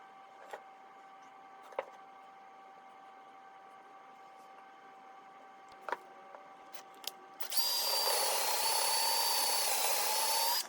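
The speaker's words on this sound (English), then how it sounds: "take a piece of scrap wood, drill a hole for each" A power drill bores into a piece of scrap wood, a loud steady whine lasting about three seconds, preceded by a few faint clicks and taps of handling in a quiet room.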